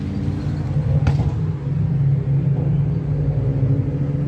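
A Model T replica car's engine rumbles close by with a steady, loud low chug, briefly punctuated by a sharp click early on.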